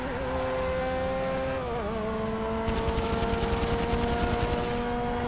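Rapid automatic gunfire in Grand Theft Auto V during a car chase, a fast steady rattle that starts partway through over a droning vehicle engine.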